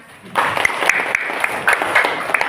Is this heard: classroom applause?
yes